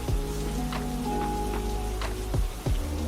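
Steady rain falls on tropical houseplants, Calatheas among them, a soft continuous patter with scattered louder drips and taps hitting leaves nearby, and a faint tonal hum beneath.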